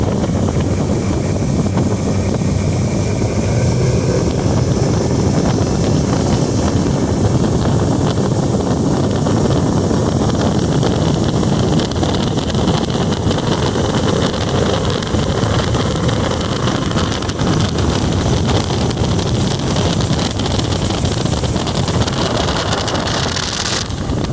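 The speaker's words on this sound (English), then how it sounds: "I'm going to turn around here and show the motor running under power." A Yamaha 115hp four-stroke outboard motor pushes a 2004 Skeeter SX 180 boat under power, a steady engine drone mixed with heavy wind buffeting and water rush that runs constantly throughout.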